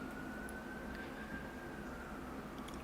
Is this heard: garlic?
no